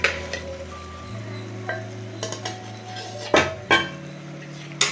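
Flat beans (chikkudu) are tipped into a pan with cooked tomato and stirred, metal spoon scraping and clinking against the pan over a low sizzle, with a few sharp knocks.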